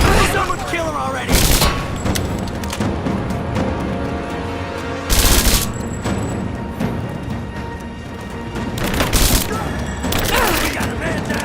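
Gunfire in the video game Rise of the Tomb Raider: loud, dense bursts of shots and booms come in heavy waves over continuous battle noise.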